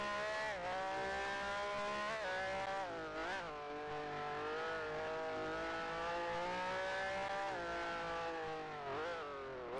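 A race car in a sim racing game, its engine note dropping and rising in harmonic whine as it brakes hard into a turn, with steady loud engine drone and shifts in pitch throughout.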